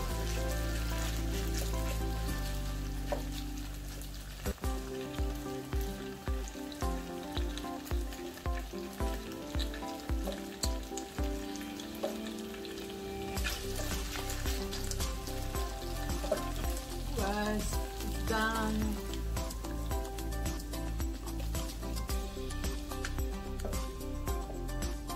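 Beef tapa fries in a pan with a steady, close crackling sizzle, broken partway through by a run of evenly spaced knocks before the hissing carries on under faint clatter.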